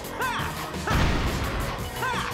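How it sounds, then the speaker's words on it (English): Rocks shatter in a Sonic the Hedgehog 3D video game, loud crunching smash bursts mixed with swooshing effects, layered over busy game sound. "Yeah, I smashed through the rocks and stuff."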